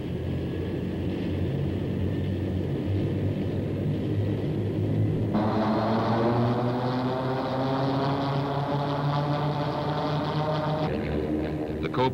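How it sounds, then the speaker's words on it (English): The turbine engine of an AH-56 Cheyenne helicopter whines steadily on startup, then a rising, layered roar joins in as it spools up, loud and close throughout. "With the crew on board, the engine is started."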